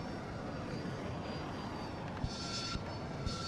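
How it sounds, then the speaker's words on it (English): Helicopter in the video game Battlefield 2042, a faint steady engine drone with a few soft thumps and bursts of game effects over it, no speech. "Try to get this heli."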